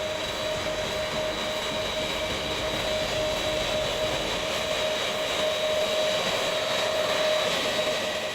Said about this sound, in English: The largest military transport in the US's arsenal is also one of the largest planes in the world.